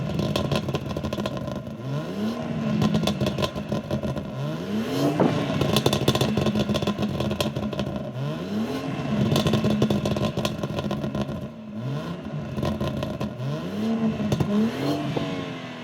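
A stage 2 tuned BMW M140i with B58 engine revs repeatedly from the rear, rising sweeps climbing and falling in roughly two-second cycles, loud and close, with exhaust crackle and clatter between pulls.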